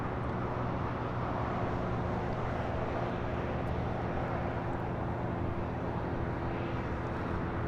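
An Asiana Airbus A350 taxis at LAX toward the Tom Bradley terminal, its engines a steady, moderately loud hum and whine with a constant low drone throughout and no talk.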